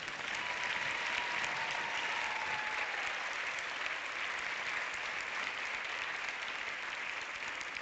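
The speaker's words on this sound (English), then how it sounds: "A big round of applause" An audience at a European film award screening applauds to welcome a film director, a steady wash of many hands clapping that stays even and continuous throughout, heard at some distance with no voices.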